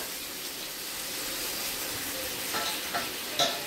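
Veg momo filling frying and being stirred in a hot pan, a steady close sizzle with brief scraping stirs and small crackling bursts near the end, no talking.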